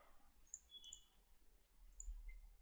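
A computer mouse being right-clicked during 3D modeling work at a desk, heard as a few faint, sharp clicks scattered across a quiet room with no voices.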